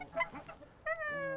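Geese giving a few short honks, followed by a longer, drawn-out nasal call, close by and moderately loud with no talking.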